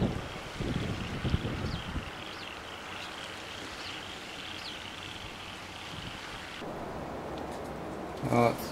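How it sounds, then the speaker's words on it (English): Steady roaring wind buffeting the microphone on the deck of the Spirit of Tasmania ferry, constant broadband rush with a few brief louder gusts and knocks. "we're batting down against the wind here"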